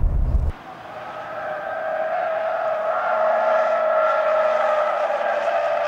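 Inside a car driven hard by a test driver, a steady engine hum and road roar build, with a sustained whining tone rising slightly in pitch, close and continuous after a brief thump at the start, no talk heard.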